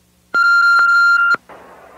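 A single loud, steady electronic beep from an answering machine, held for about a second with two brief dips, then a soft hiss of line noise.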